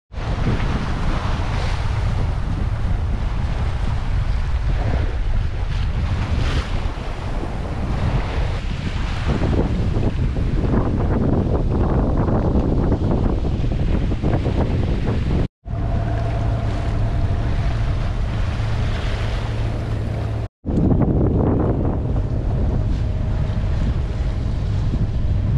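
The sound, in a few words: wind while sailing a boat around a headland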